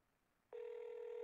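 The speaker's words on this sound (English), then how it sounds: "No, it's ringing." A telephone ringback tone on an outgoing call starts abruptly after half a second of near silence and holds as a steady, clear electronic tone to the end, with no talking.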